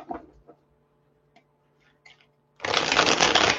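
A deck of reading cards gets a brisk riffle shuffle, a dense rushing flutter lasting about a second after a few quiet taps and clicks.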